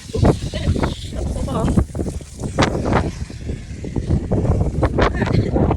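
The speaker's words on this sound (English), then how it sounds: "Dang wind." Gusty outdoor wind buffeting the microphone in loud, rumbling surges throughout, with a voice speaking underneath the roar.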